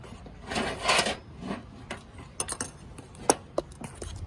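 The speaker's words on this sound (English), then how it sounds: "And we can begin mixing." Organic whitewash paint being mixed from powder and water, with scraping, swishing strokes early on followed by scattered taps and clicks of the mixing tool against the container.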